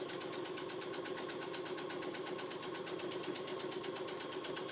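A sewing machine stitching the corners of a fabric handbag, running in a fast, steady mechanical whir that stays even throughout.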